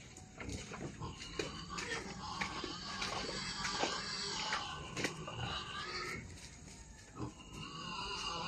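Fattener pigs on a farm grunt and squeal in a busy, continuous jumble, with scattered louder bursts and people talking in the background.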